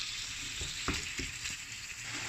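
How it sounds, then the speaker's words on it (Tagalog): Ground meat sizzling in a pan while being stirred, a dense steady crackle broken by several dull scraping thumps from the spoon, close up with no voices. "Halo-halo lang ang karne giniling."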